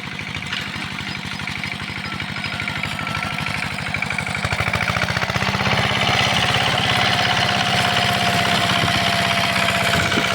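A small single-cylinder walk-behind tractor engine with a harrow chugs loudly and steadily in a vegetable garden, rapid regular putter growing slightly louder as it keeps running close by.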